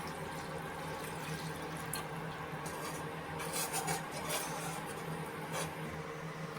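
Water poured into a pan of sesame paste curry for a Bengali parshe fish dish, a soft continuous splashing and trickling at low volume, close by, with no talk.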